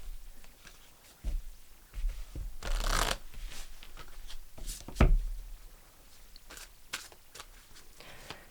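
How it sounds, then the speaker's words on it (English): A deck of fortune cards is shuffled close by, quiet riffling bursts and soft taps coming in uneven clusters, with one longer, fuller shuffle partway through. "I'm going to pull you a fortune card"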